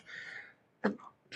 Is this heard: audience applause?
no